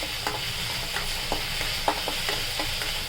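Crushed ginger and garlic frying in a pan for cabbage curry, a continuous sizzle broken by regular light taps and scrapes of stirring, with no voices.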